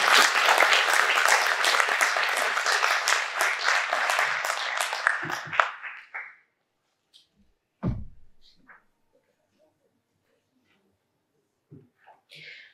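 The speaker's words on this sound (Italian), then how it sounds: "Quindi chiederei un applauso per tutti loro." Applause at a town council meeting in Bosconero, a dense round of clapping lasting about six seconds before dying away into near silence with a few faint thumps and noises.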